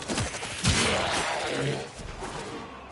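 Gunfire in a Warframe-style sci-fi shooter video game comes as a burst of sharp, noisy cracks and blasts, loud and dense, with whooshing impacts that thin out toward the end.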